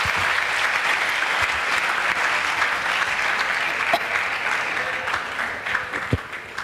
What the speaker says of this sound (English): Please welcome all of them with a round of applause.